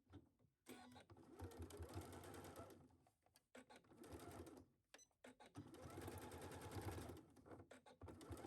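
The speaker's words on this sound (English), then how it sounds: "I'm going to switch back to a straight stitch on my machine." Sewing machine running a straight stitch on a McCall's M8591 garment, rapid rhythmic whirring in three sustained bursts separated by short pauses, faint and close.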